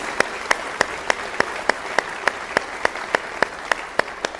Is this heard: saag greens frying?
no